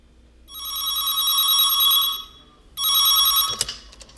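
A telephone rings at the start of a recorded business phone call, two electronic rings with a short pause between, clear and fairly loud, the second cut off by a click as the call is picked up.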